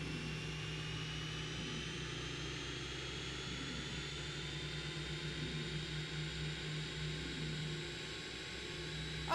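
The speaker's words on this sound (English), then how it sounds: "Let's go ahead and go to engine 1." BAe 146 jet engine spooling up in a flight simulator game, a steady whine with rising tonal hum and low rumble, continuous and moderately loud with no talk.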